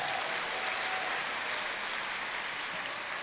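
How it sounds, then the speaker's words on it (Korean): Sustained applause from a church congregation for two middle-school student speakers, a steady even wash of many hands clapping at moderate distance, holding level throughout. "다시 한번 우리 중등부 에베네셀 송지민과 김태현 에베네셀에게 큰 박수 부탁드리겠습니다"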